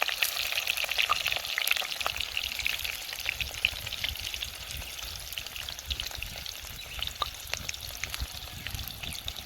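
Mud fish frying in hot oil inside a covered pot, a steady dense crackling sizzle with scattered sharper pops, close and continuous with no talking.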